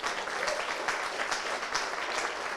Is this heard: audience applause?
yes